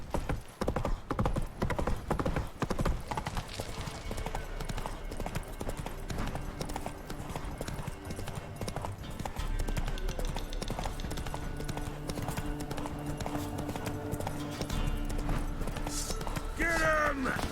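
Hooves pound in a fast, steady galloping rhythm as the horse Roach runs in The Witcher 3, close and continuous, mixed with game music and shouting voices.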